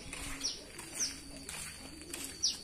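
Caged pet birds sunning outdoors in the morning, among them a ringed female, give several sharp, high chirps over a steady background hum, spaced apart and moderately close.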